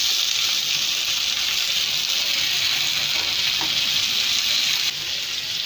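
Onions, green chillies, curry leaves and tomatoes fry in a pan over mustard seeds, making a loud, continuous, close hiss and sizzle that eases slightly near the end, with no voices.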